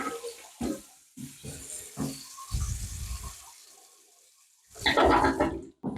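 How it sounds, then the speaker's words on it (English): A clogged toilet is plunged, giving several dull thumps and sloshing gurgles, followed by a louder rush of draining water near the end. "I'm gonna plunge it one more time to see if that will help."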